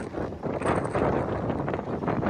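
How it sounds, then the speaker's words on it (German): Strong, gusty wind roars across the microphone aboard a sailboat moored in the harbor at Middelfart, Denmark, a steady broadband rush with surging gusts throughout and no talk. "Die Hintergrund ist ein bisschen Wind. Das ist aber ein bisschen mehr Wind."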